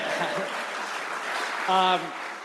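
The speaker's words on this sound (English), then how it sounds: "that's an applause line" An audience at a California state agency headquarters gathering applauds in a short, moderate burst, with a speaking voice running over the clapping and a brief tonal sound near the end.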